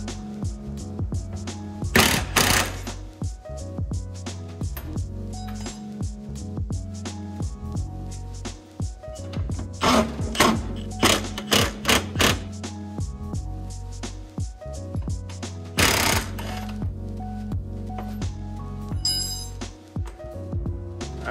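Chrome sockets on an impact wrench spinning nuts off the top shock tower bolts during a Kafer bar install, heard as several short, loud rattling bursts spread across the stretch, with metallic clinks between them.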